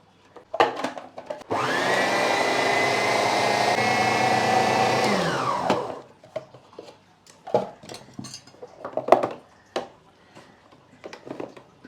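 A kitchen grinder whirs loudly and steadily for about four seconds as it blends cooked lentils into puran, then stops, followed by scattered clinks and knocks of utensils.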